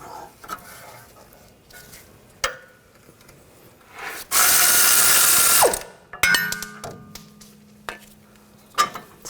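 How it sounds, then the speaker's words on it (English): Wrench and 21mm socket ratcheting loose a 21mm nut and bolt on a rear upper control arm of a 2013-2022 Buick Encore: scattered clicks and scrapes, then a loud burst of dense ratcheting noise, followed by sparse metallic clatter and a ringing tone. "Use a 21mm wrench on the nut, 21mm socket on the bolt. And loosen this up and take these out."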